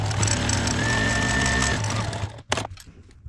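A sewing machine top stitches bias tape onto a fabric jewelry roll, a close, steady rapid whirring stitch for nearly two seconds before stopping, followed by a few brief handling knocks.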